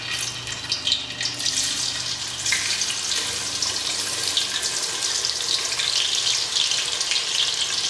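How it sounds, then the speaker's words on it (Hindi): Onions frying in ghee for a Rajasthani boti masala, a steady broad hiss of sizzling that holds close and even throughout with no voices. "सबसे पहले हम इस घी के अंदर जो हमारे प्याज दिख रहे हैं आपको, हल्के से धीरे से प्याज डालेंगे।"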